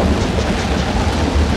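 Steady rain with a low rumble of thunder in an animated series scene, a dense continuous wash of rainfall filling the short stretch with no speech.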